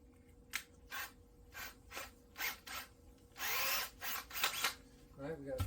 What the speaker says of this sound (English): So I'm going to put a 3/32 in my drill.